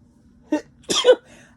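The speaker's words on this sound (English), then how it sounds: "I'm sure it's because of this purse that I've been sneezing" Two sharp sneezes burst out close by, a short one followed by a louder, longer one, with quiet room sound in between.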